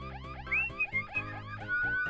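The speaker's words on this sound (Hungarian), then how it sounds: "És most kapcsoljuk be a riasztót." A video game alarm wails in repeated rising and falling sweeps over a steady electronic backdrop, loud and continuous for a couple of seconds with no talking.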